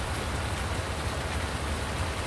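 Steady, dense rainfall from Farming Simulator 19, a constant broadband hiss of drops on surfaces with no breaks, fairly loud and uninterrupted.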